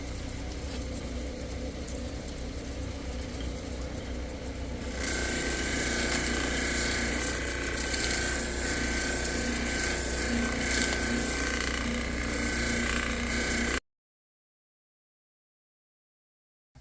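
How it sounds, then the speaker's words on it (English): An agate stone held against a spinning polishing wheel gives a steady grinding, rasping hum that gets louder and brighter partway through, then stops abruptly near the end. "keep the stone moving on the wheel"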